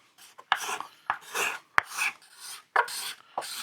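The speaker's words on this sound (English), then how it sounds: "I can take a scraper and do a couple quick scrapes" Several quick scrapes of a steel scraper along a wooden guitar neck under construction, five or six short rasping strokes in an uneven rhythm, close and fairly loud, with no talking.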